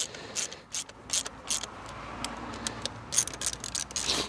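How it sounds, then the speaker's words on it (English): A hand ratchet clicks in short rapid bursts while tightening bolts on the fuel system of a Ford Puma Millennium, the pawl ticking up close with pauses between strokes. "Try and tighten it down fairly evenly."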